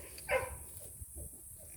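A single short dog bark rings out on an off-grid homestead, followed by faint yips or whimpers against steady background noise.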